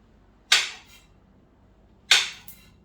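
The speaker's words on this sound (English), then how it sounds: "I'm gonna chop my plantain in a circle" Knife chopping plantain into rounds on a board, two sharp, crisp cuts about a second and a half apart, each with a faint secondary tap, close and otherwise quiet.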